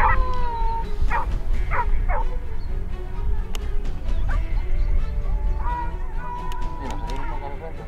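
Hunting dogs bark and yelp repeatedly during a Spanish montería hunt, short high yips and a drawn-out howl over steady outdoor background noise, fairly distant.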